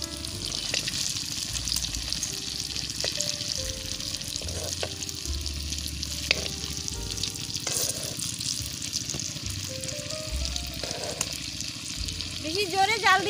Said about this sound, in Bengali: তেলটা আমার হিট হয়ে গেছে, এবার আমি ছেড়ে দিচ্ছি।